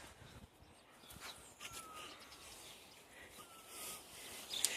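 Alex, a dog, growls faintly during a training walk in a forest, a low, quiet rumble beneath soft background noise, with a few brief higher sounds scattered through it.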